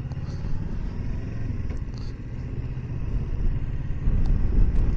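A 2020 Kawasaki Versys 650 motorcycle rides around a mall, its engine a steady low rumble with wind and road noise that grows slightly louder toward the end.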